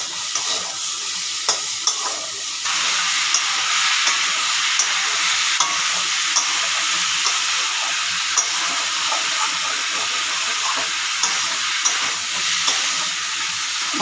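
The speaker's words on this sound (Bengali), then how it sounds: "ভাজা হতে থাকুক, আমি চিংড়ি ভাজবো।" Food fries in a small amount of oil in a pan, a steady close sizzle and hiss with occasional stirring clicks and no talk.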